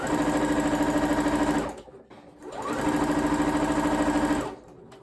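A domestic sewing machine stitches a rolled hem in two loud, steady runs of rapid mechanical whirring, close up, separated by a brief pause near the middle.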